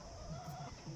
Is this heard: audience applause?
no